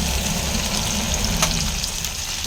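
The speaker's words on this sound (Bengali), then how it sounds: "ঝিঙেটাকে ভালো করে ফ্রাই করে নিই।" Ridge gourd and potatoes frying in a pan, a steady close hiss and crackle of oil that holds at one level with no talk.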